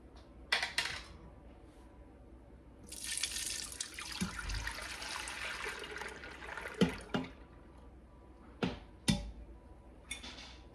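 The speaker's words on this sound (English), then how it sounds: "I'm gonna put all the cream and the actual milk into my Instant Pot." Raw milk and cream are poured into an Instant Pot as a continuous liquid stream that swells for several seconds. Scattered knocks and clunks of jars and the pot come before and after, with no talk.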